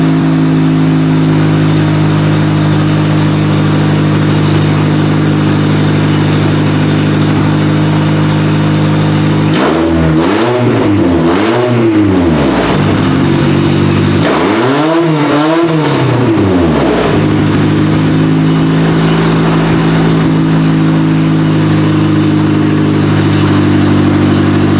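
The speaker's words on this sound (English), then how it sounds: "It's definitely cranking hard." A Honda car engine strains as it cranks hard, then twice revs up and falls back in rising and falling sweeps, over a loud steady mechanical drone that continues throughout.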